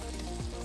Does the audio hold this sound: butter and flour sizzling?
yes